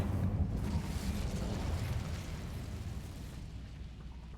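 An Incendio fire spell from the video game Hogwarts Legacy bursts as a loud, dense whoosh and roar that fills the clip, slowly easing off toward the end.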